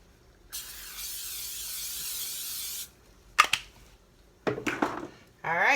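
A cooking spray hisses steadily for about two seconds, followed by a few clattering knocks and rustling sounds nearby; a voice may be faintly present.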